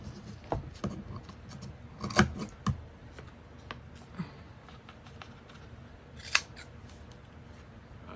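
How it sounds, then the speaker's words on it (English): Scissors snip the corners off a fabric-covered journal cover, giving a few sharp, isolated cuts spaced seconds apart over light rustling, close and fairly quiet. "I'm just going to trim just a little bit off of these corners,"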